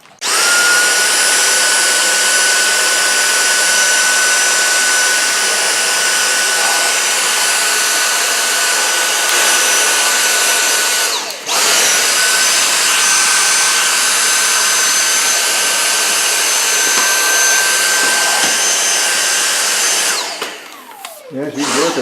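A Dyson DC59 cordless vacuum cleaner whirs with a steady high-pitched motor whine, cutting out briefly about halfway through, then running on and finally shutting off.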